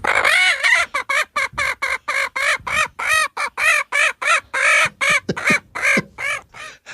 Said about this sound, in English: this is a Texas lady with a ticklish chicken